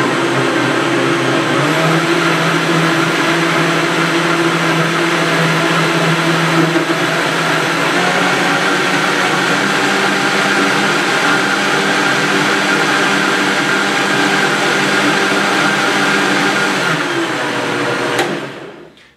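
A Vitamix blender whirs loudly as it blends a cold drink, a dense, steady high-speed roar that holds for most of the clip before abruptly cutting off near the end.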